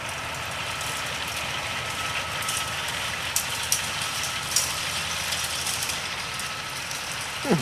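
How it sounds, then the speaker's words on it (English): A John Deere tractor engine idles with a steady, low rumbling drone throughout, joined by a few faint clicks and knocks near the end. "John Deere tractor."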